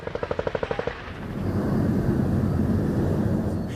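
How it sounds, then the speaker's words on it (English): During military strikes in Gaza, a rapid burst of about a dozen evenly spaced gunshots gives way to a swelling, sustained roar, like a low aircraft or heavy rumble, filling the rest. "The bombardment of Gaza continues."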